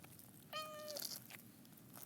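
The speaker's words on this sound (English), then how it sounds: "Hi, kitty." A cat meows once, a clear drawn-out call that is fairly close and sounds alone over quiet room noise.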